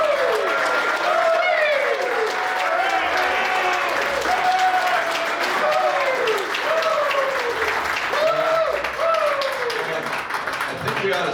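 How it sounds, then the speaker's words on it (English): A crowd applauds for the owner of San Tan Ford at an event presenting Mach-E cars to ASU players, steady clapping under a voice cheering and calling out over it. "please join me in a round of applause for our friend"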